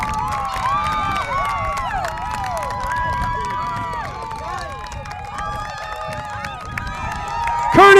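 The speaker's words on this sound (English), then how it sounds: "Curtis Richens ties it up and the crowd goes wild with 14:57 to play" A high school soccer crowd at a 4A boys regional match roars after an equalizing goal: sustained cheering and whistling under an excited commentator's voice, swelling loudly at the very end.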